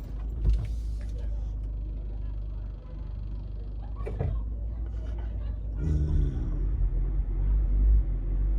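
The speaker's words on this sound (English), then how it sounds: "I had to roll up the window because she gets real aggressive" A car's power window motor hums as it rolls the window up inside the vehicle, heard over a low steady engine and road rumble, with a couple of soft knocks and a shift in tone near the end.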